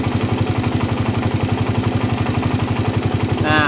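Motorcycle engine idles steadily after a carburetor adjustment, a close, even chugging pulse throughout with a brief high whine at the very end, no one talking.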